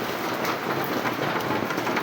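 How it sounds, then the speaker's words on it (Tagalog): Steady, heavy rain pours continuously on surfaces, a dense unbroken hiss with no talking. "Tuloy-tuloy ang pag-ulan."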